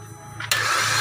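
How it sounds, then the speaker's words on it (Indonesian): A Suzuki Ertiga engine spins on its starter with no compression, a steady mechanical whir that jumps louder halfway through and then holds a constant cranking drone without firing. "saat start suaranya seperti tidak ada kompresi"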